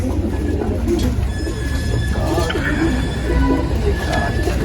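Pigeons coo softly in a loft among pairs of kept birds, their low calls mixed with continuous background noise and nearby voices talking.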